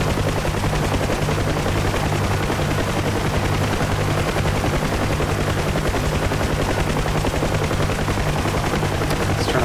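A UH-1 Huey helicopter in the DCS flight simulator, its loud, continuous rotor thump and turbine drone steady and close throughout, heard alone without talk.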